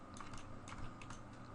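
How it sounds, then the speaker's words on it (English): A computer keyboard is tapped in a quick run of soft, close keystrokes, faint and unaccompanied, while working in 3D modelling software. "I'm just going to go and hit H on my keyboard"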